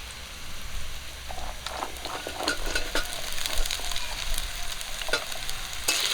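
Dhenki shak fern stems and potato hit fried onion and green chili in a pan, producing a dense, crackling sizzle with scattered stirring clicks throughout.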